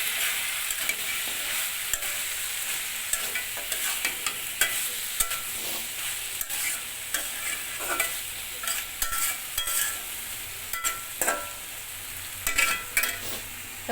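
Rohu fish head with cabbage and coriander leaves is stirred in a hot pan, with continuous crackling sizzle and irregular scraping and clattering strokes from the spoon, and no voices.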